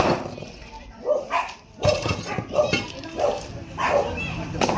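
A dog gives a series of short barks and yips close by, mixed with people talking nearby.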